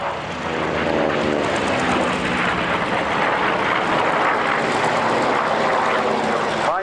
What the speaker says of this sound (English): Listen to those sounds of those 200 horsepower Pratt & Whitney Wasp engines in the Corsair.